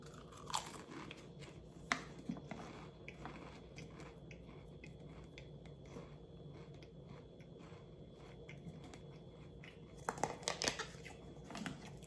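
Crunchy pizza-flavored Pringles chips being bitten and chewed, with sharp crunches early on and a denser burst of crisp munching near the end, close to the mic over a low steady background.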